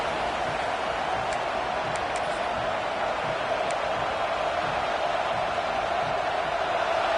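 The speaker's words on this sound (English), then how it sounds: "This crowd trying to make life miserable for this offense." Steady roar of a football stadium crowd during a college game, a broad continuous wash of cheering and noise holding at an even level throughout, with no clear talk above it.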